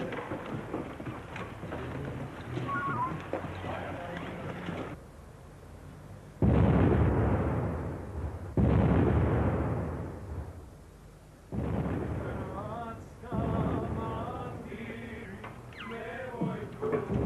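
Explosions set off within a city sound as several heavy, loud booming bursts in close succession, each rumbling away before the next, with quieter stretches of background noise in between.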